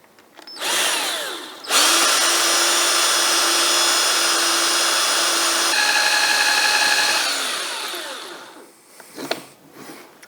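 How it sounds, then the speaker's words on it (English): A power drill boring holes, whirring up with a brief burst, then running loud and steady for several seconds before winding down and stopping. "there you can see them, the 3 places where I want to drill holes."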